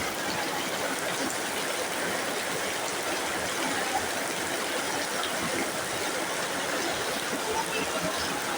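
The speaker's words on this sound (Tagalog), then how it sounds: "lakas ng ulan dito guys." Heavy rain pours steadily, a dense, loud, continuous hiss of falling water filling the whole clip with no pauses.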